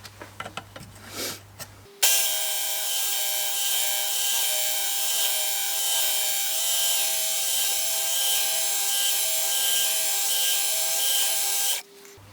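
A Work Sharp MKII electric knife sharpener runs with a steady, high motor whine for about ten seconds while a rusty pocket knife is drawn through it in strokes. The whine starts and stops abruptly after a few faint handling knocks.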